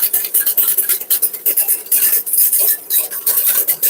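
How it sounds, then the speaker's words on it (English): A whisk scraping and stirring béarnaise sauce in a pan, in quick rhythmic metallic strokes with short pauses, close and fairly loud, with no talking. "So you just whisk it this way and you go around once more"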